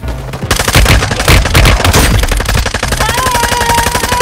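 Warzone Mobile gunfire: a loud, rapid automatic burst of close shots that runs almost the whole time, with a sustained tone rising near the end.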